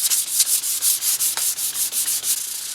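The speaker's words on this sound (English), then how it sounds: "always sand with the grain." Sandpaper rubs back and forth along the wooden stock of a Remington 31 12-gauge shotgun in quick, even strokes, close and loud, with no talk.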